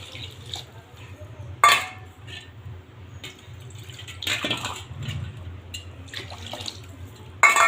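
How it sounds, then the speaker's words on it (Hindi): Water poured into a pan of okra and potato curry cooking on a stove, splashing and trickling in uneven bursts over a low steady hum, with short sharp clatters of the pan. "एबे पानी दे दबा।"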